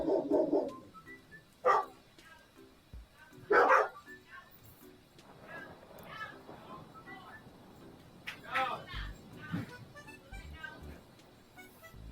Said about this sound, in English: the dogs are losing their minds.